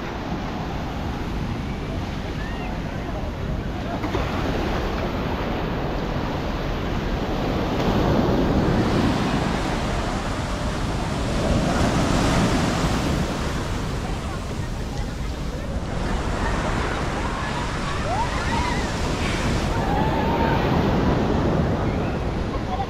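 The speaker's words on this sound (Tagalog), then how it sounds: "Sobrang lakas ng alon." Strong ocean waves surge and crash at El Nido beach, a continuous loud roar of surf mixed with wind buffeting the microphone, with faint voices in the background.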